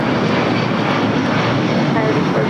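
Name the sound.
Delta Boeing 757-200 taking off at LAX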